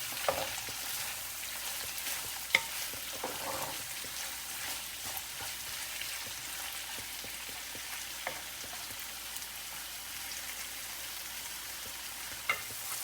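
Tomato, chilli and onion sizzle steadily as they fry together in a pan, and a spoon stirs them now and then with occasional clinks. The sound is close but fairly soft, and no one speaks.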